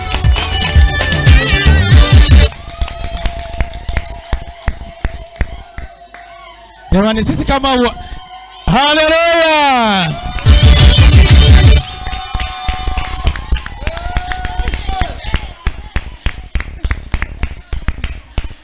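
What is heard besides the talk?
church youth crowd clapping and ululating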